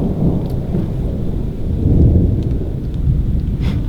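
Heavy rain falling at a wilderness camp with a deep, rolling rumble of thunder swelling near the middle, steady and loud throughout with no talking.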